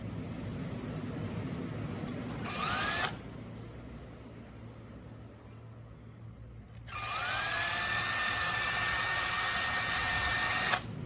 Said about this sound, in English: carefully drill in there so as not to crack it